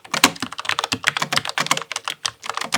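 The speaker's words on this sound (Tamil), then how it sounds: "ஸோ ஷிஃப்ட் ப்ரெஸ் பண்ணி" Shift being pressed among other keys on a computer keyboard: a quick, uneven run of close, crisp keystrokes with no voices.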